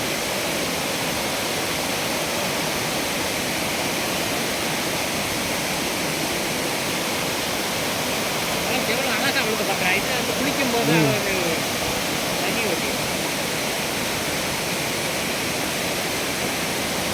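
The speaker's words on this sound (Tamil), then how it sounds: "தாள அருவி நீர்வீழ்ச்சி இப்போ தண்ணி குறவில்லை" Waterfall at Thirparappu falls park, a steady, loud broadband roar of falling water that runs unbroken and close throughout, with faint voices briefly audible midway.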